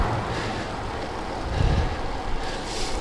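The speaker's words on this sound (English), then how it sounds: "I think the wind has picked up just a bit." Steady wind roars across the microphone during a road bike ride on a Vilano Shadow, a constant dense rush that swells into low buffeting gusts midway, with no voices.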